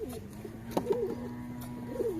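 Pigeon cooing close by, a couple of soft rolling coos over a low steady background hum.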